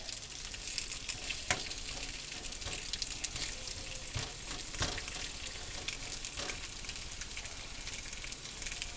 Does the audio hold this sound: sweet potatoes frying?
yes